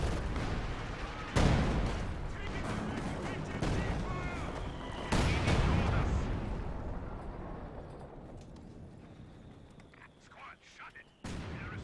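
Mortar and artillery fire in Company of Heroes 2 during a multiplayer match, with several loud, booming impacts and explosions thudding over continuous battlefield din, while a commentator talks throughout.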